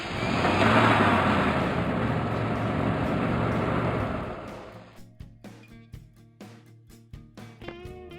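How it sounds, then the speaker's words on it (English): A truck engine drives past with a loud, broad rumble for about four seconds, then fades away, leaving quieter scattered knocks and background sounds. "Truck."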